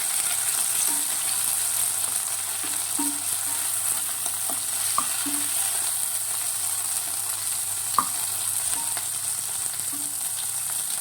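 Tomatoes fry in oil for a mint chutney, giving a soft steady sizzle while a spoon stirs and taps the pan in occasional light scrapes and clicks.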